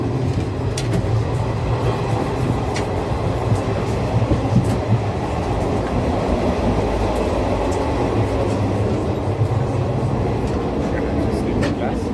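The Amaravati Express runs along the Konkan Railway, heard from inside a coach as a steady low rumble with rhythmic wheel clatter and occasional sharp clicks, continuous throughout.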